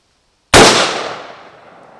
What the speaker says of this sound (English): Gonna let Marcus fire 4 or 5 rounds at the tailgate of this Ford F-150